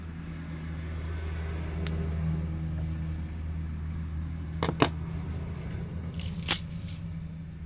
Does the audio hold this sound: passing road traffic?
yes